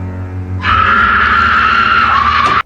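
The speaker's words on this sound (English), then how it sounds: "You can stop screaming like a girl now." A loud, sustained high-pitched scream in A Nightmare on Elm Street Part 2: Freddy's Revenge bursts in over a low rumble and holds steady for about two seconds before cutting off abruptly.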